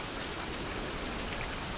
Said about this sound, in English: Now it's raining, lovely.